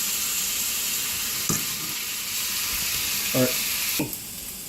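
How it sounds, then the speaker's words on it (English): Ground meat seasoned with onion, garlic, black pepper and salt sizzles steadily in a pan, with a few clicks and scrapes of a utensil and a brief spoken remark near the start. "we're going to begin to cook up our meat"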